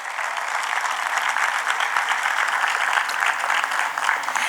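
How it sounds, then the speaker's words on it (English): An audience at a city's State of the City address applauds, a dense, steady wash of many hands clapping close and loud throughout. "So show them another round of applause"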